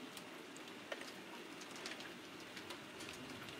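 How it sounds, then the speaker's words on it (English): Soft, steady rain patters continuously, with scattered sharper drops ticking now and then; quiet and even, with no voices. "But it's not. It's just rain."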